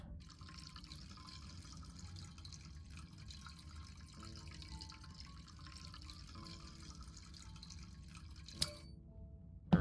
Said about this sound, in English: Pour the liquid.